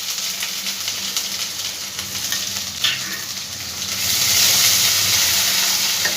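Grated ginger hits a hot pan while cooking a vegetarian potol dish, giving a steady hissing sizzle that swells louder toward the end, with a few faint scrapes and no talking.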